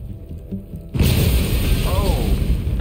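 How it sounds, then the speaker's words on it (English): A sudden loud boom as a vehicle engine explodes in The Walking Dead: A New Frontier video game, cutting in after a quiet stretch and followed by a sustained roaring rumble with crackling debris. "the whole engine exploded"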